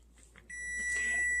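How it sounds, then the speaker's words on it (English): An electronic kitchen timer beeps steadily for boiled eggs, a continuous high tone sounding close and fairly loud after a quiet kitchen moment. "then your timer goes off on these eggs"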